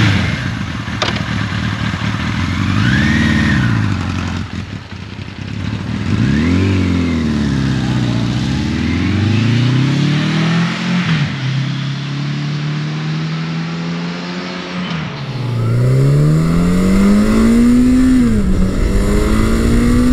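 A Suzuki GS1100 motorcycle rides on the road, its engine revving up and down through gear changes with rising and falling pitch, loud and close to the rider throughout.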